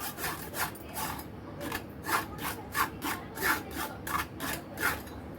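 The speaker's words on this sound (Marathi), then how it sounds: "ज्या भांड्यात मी पेरू उकडून घेतला होता त्याच भांड्यामध्ये मी गाळून घेणार आहे" Boiled guava pulp pressed and rubbed through a sieve into a pot: a steady rhythmic scraping, about two strokes per second, close and moderately loud, with no talking.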